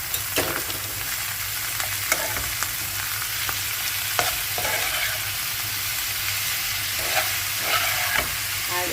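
Onions and garlic sizzling steadily in a pan, with occasional stirring scrapes and clatters, close and continuous, with no talking.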